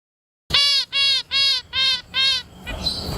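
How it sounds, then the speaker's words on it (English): A zebra finch sings five evenly spaced, bright nasal notes up close and loud, followed by a softer, rougher trailing call. "Next, I'll bring up a zebra finch."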